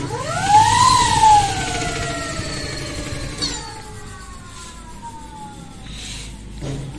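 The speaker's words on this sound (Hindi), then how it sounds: "आवाज सुनिए मोटर की।" An electric scooter motor with its speed controller bypassed whines upward in pitch, then winds down in a long falling whine, close and loud over a low background hum.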